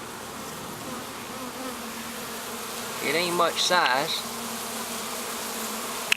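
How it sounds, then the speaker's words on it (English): A swarm of small black bees hums in a continuous close drone, with a voice speaking briefly over the buzzing partway through. "Got these little black bees in here."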